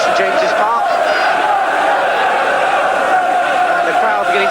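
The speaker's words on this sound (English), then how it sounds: "the crowd beginning to respond again to try and lift Newcastle" A large football crowd at St James's Park roars and chants in a sustained, loud wash of voices during a Newcastle match, with no clear individual speech.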